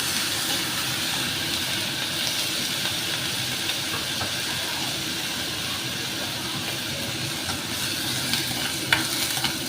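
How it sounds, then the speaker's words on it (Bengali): Mung dal frying in a pan makes a dense, continuous sizzle and hiss, with steady close stirring scrapes throughout and a brief clink near the end; no one speaks. "ডালটাকে এবার একটু এর ভেতরে ভাজবো একটু নাড়ানাড়ি"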